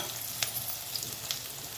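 Chopped onions frying in a pan for pepper chicken, a close continuous sizzle with light stirring scrapes and crackles.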